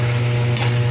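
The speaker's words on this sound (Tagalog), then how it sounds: "Kailangan lang natin mapaikot sa konting mantika yung karne" Pork turns in a little oil in a pan as the base for sinigang, a steady close sizzle and stirring over a constant low electrical hum, with no voices.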